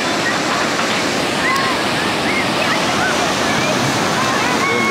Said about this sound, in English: you can't see across this because it's an ocean and it's endless